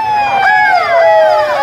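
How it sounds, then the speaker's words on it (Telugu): A police siren sounds at the launch of the e-Pahara police command control room in Repalle, India: a loud, close, continuous wail with sweeping, layered tones. "siren సైరన్తో sir"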